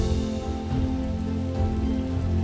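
Steady rain falls on surfaces nearby as a dense, even patter with a low rumble underneath, continuous and fairly close, with no voices.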